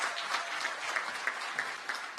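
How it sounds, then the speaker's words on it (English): Steady crowd applause at an award ceremony for a challenge grand finale, honoring a winner named Segawa; dense, continuous clapping from many hands at close range with no break. "Round of applause for Segawa."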